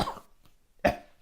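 Two dry coughs from one person, close to the microphone, separated by a short silent gap.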